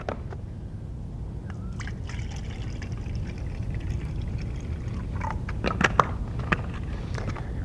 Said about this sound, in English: you're going to add 3/4 of a cup of water.